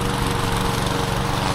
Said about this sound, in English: Still mowing fine.